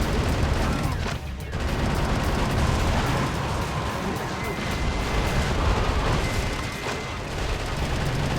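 A bomb detonates in the Metal Wolf Chaos XD video game, with loud, dense rumbling blasts and crackling debris that continue for the whole stretch, with only a brief dip near the start.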